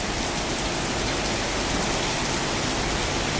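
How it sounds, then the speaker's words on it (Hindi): Heavy rain pours steadily in Bangalore, a dense, unbroken hiss of downpour that stays at a constant level with no voices. "देखो यजमान खतरनाक का बारिश पड़ रहा है।"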